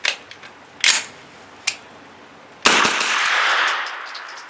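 Thureon Defense 9mm carbine firing low-recoil Hornady 100 grain ammunition outdoors: several sharp separate shots, then a loud blast followed by a long noisy wash of sound, close and without speech.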